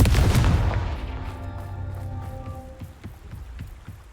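A Confringo blasting spell bursts in Hogwarts Legacy, a loud close boom at the start that rolls off into a fading rumble with scattered debris-like clatters.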